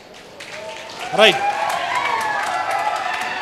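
Students at a college fresher's day celebration burst into brief applause and cheering, with a spoken word just before it and crowd noise carrying on behind it.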